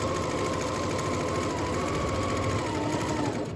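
A sewing machine stitches continuously around the edges of a fabric rectangle for a face mask, a steady close whirring hum with rapid needle chatter and no pauses.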